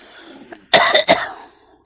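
A person coughs twice in quick succession, loud and close, after a faint breath, with no talk over it.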